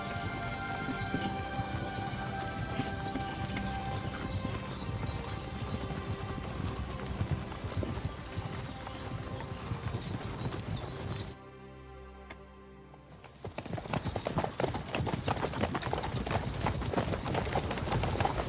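Steady clip-clop of horse hooves galloping in the video game Kingdom Come: Deliverance II, continuous and fairly loud, with a brief quieter dip partway through before the hoofbeats resume.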